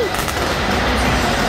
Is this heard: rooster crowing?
no